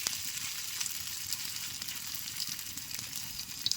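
Cabbage and egg tikki fry on a large hot tawa, a constant close sizzle with light crackling and small pops, steady and unbroken, no voices.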